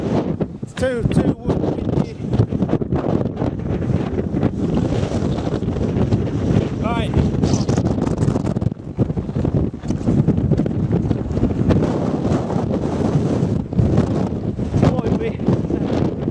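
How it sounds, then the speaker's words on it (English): Strong gusting wind roars across an exposed fell top on Coniston Old Man in the Lake District, buffeting the microphone loudly and continuously while someone speaks briefly over it. "I weigh a fair bit, and that wind's nearly blowing me over."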